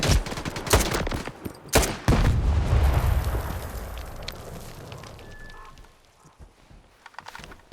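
Rapid bursts of gunfire in S.T.A.L.K.E.R. 2, loud sharp shots with a dense rumbling stretch in the middle that fades toward scattered pops at the end.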